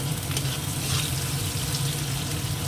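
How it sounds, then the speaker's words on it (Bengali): Onion frying in a pan gives a steady, close hiss and sizzle that runs without a break, with faint stirring beneath and no talking. "পেঁয়াজটা দিয়ে দিলাম। পেঁয়াজটা একটু ভাজা হোক"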